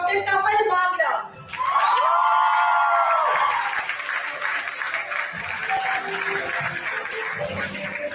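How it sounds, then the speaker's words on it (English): Audience at a world dental sciences conference applauding and cheering for an award winner, with a few whoops and shouts over sustained clapping, while background music and a brief voice sound near the start. "Huge round of applause, everybody."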